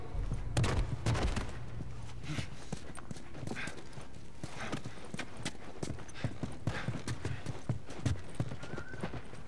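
Horse hooves clip-clop steadily in The Last of Us, with a whinny and faint gunfire-like pops, under occasional talk in a game scene.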